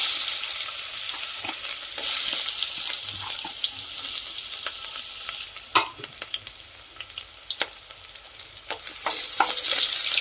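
Onion frying in hot oil in a pan, stirred, with a loud, steady sizzle and scraping stir strokes running throughout.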